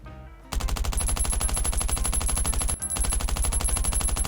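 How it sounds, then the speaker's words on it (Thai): Sustained rapid automatic M4 rifle gunfire in the video game Last Island of Survival, loud and close, with a brief pause near the end before the firing resumes; no voices. "มีเสียง M4 ด้วย"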